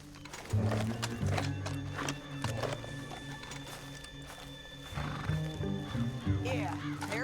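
A horse whinnies sharply and hooves clop over a rumbling game soundscape in Red Dead Redemption 2, with a second whinny near the end.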